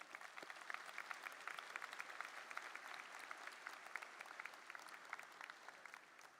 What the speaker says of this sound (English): Let's give our distinguished guests a warm round of applause.